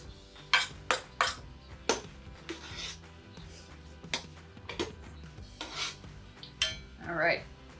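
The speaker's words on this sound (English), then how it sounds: "Now, we just need to take and spoon the mixture into the jars." Beet mixture is spooned into glass jars: a run of sharp, close clinks and taps of a metal spoon on glass, with soft wet scraping and shuffling between strikes.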